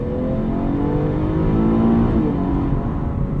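A 2018 Buick Regal Sportback GS engine runs loud and close, its roar swelling briefly as it revs, with a steady droning hum underneath.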